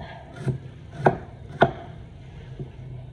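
A knife slices thinly through ginger on a wooden board, giving a few separate crisp, close chops with short pauses between them and no talk.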